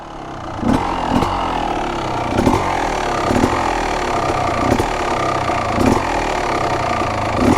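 Honda CR250 two-stroke dirt bike engine idling low and steady, with a continuous mid-range drone broken by periodic sharper pops and blips, close by with no talking.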